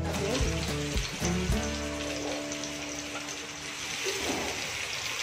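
Garlic and mustard seeds fry in a pan, a continuous soft sizzle with some tonal ringing running under it for about five seconds.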